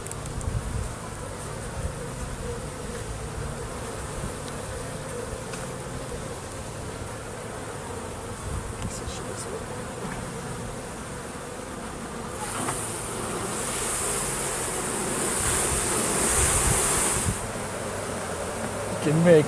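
Honeybees fill a hive opened for inspection a week after a new queen was accepted, producing a dense, steady buzzing hum that swells louder toward the end, with no talk over it.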